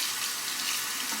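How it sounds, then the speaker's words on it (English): A razor being rinsed under a running bathroom tap, with a steady close stream of water hissing into the sink and no other sounds. "Okay, rinse that"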